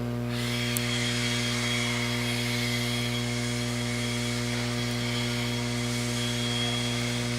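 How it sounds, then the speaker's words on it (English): A leaf blower runs steadily at an RC off-road race track, its motor drone holding constant and moderately loud with no pauses. No one speaks. "If somebody can grab the blower and blow the track off so I don't have to do it"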